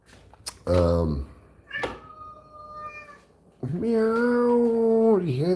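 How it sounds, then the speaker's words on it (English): A cat gives a loud, drawn-out plaintive meow, then a softer shorter cry, followed by a long wavering wail close by, with a brief knock between calls. "Do you hear that plaintive meow?"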